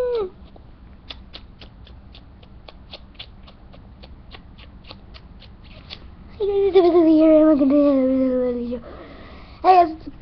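A house cat gives a drawn-out, rising meow, then a shorter one, after a series of soft clicks over a quiet room hum.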